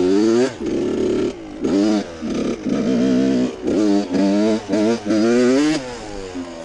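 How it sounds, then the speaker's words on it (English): An RM105 motorcycle revs hard during a one-hand wheelie, its engine rising and falling in repeated loud, close bursts of throttle with brief drops between them. "Get ready for this one hand wheelie."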